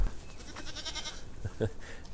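Goats bleat in wavering calls, somewhat distant and fairly faint, with a couple of low thuds toward the end.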